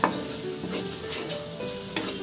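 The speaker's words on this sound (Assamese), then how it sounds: "এইখিনি ভাল ধৰণে ভাজি ল'ম মই।" Close, continuous sizzling of salt and chicken masala frying in a hot pan, with a spatula scraping and stirring through it a few times.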